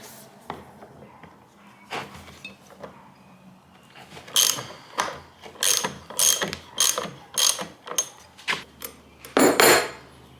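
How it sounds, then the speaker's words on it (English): Seized chainsaw's flywheel pried loose on both sides, a string of sharp metallic clicks and clanks arriving in bursts, growing louder and more frequent toward the end, with no talking. "with a little prying action on each side, we got our flywheel off"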